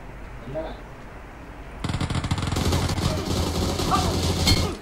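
Rapid automatic gunfire in the battle royale game PUBG, a sustained burst of loud, dense shots starting partway through and continuing to the end, following a quieter stretch with faint talk.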